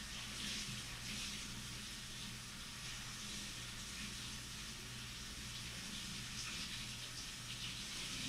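Water runs steadily from a tap for washing with soap, a soft continuous hiss and splash with no voices.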